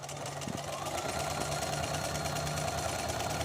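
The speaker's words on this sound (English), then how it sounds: "And I'm just going to keep sewing straight." A sewing machine stitches a straight quilt seam, its needle chattering in a fast, even rhythm at moderate volume, close by and steady throughout.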